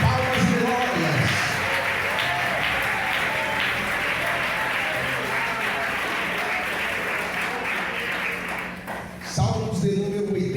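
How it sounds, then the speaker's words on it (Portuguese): A church congregation claps hands loudly and continuously during a worship service, a thick, steady roar of palms with a low hum beneath, briefly fading before voices rise at the end. "Mais forte, batam palmas e glórias"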